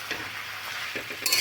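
Potato and pointed gourd fry gently on a low flame as they are stirred in the pan, a soft sizzle with a few scraping stir strokes, quiet and close.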